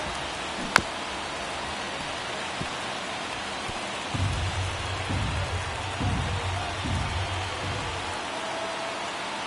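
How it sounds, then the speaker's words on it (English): Heavy rain pours steadily onto a baseball field during a game, a broad constant hiss with a sharp crack near the start and a few low rumbling thumps later on. "It's coming down pretty good."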